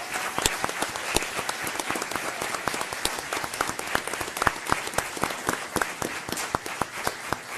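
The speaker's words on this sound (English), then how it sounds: "may we have the basketball team stand so we can give them another round of applause." An audience at a school board meeting applauds the basketball team, with plenty of distinct, uneven hand claps close by over a steady bed of clapping that keeps going the whole time.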